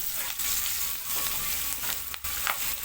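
Green chillies and curry leaves fry in hot oil for temple-style tamarind pulihora, giving a loud, continuous sizzle with brief stirring crackles.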